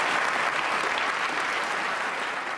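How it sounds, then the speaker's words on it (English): A lecture-theatre audience at a Christmas science lecture on aerogel applauds steadily, a broad, even wash of many hands clapping at once, with no single voice rising above it. "I think you have to give a big round of applause for aerogel"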